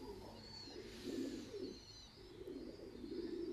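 Baby pigeons in a loft, soft low cooing and murmuring calls that rise and fall continuously, faint and close, with a thin high whine in the background.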